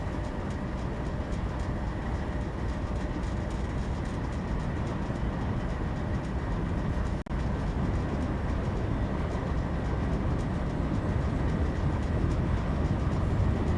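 A video game train rolls along with its brakes nearly off, a continuous loud rumbling and rattling of wheels on track that holds steady without pause.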